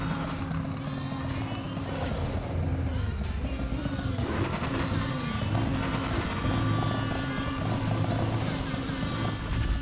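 A car engine drones steadily with shifting revs in the night race of Need for Speed Heat, a continuous loud, buzzing hum with no music.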